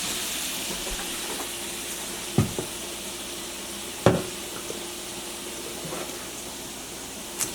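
Shrimp sizzle in a frying pan with a steady moderate hiss, broken by a few sharp clanks and scrapes of a utensil against the pan; no one speaks.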